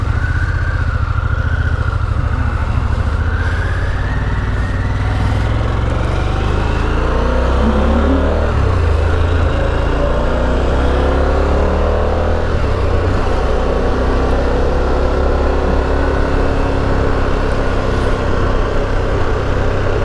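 A Harley-Davidson Pan America motorcycle pulls away and rides on, its engine drone loud and steady with rising and falling pitch as it accelerates, continuous wind and road rumble underneath, no talking.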